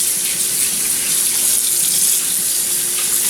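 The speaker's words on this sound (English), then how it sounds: "And just rinse them off with cold water." Cold water runs from a kitchen tap to rinse raw turkey tenderloins, a steady, close hiss that stays even and loud throughout with no speech.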